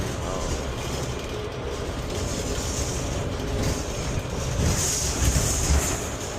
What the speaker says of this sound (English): Right at the train station.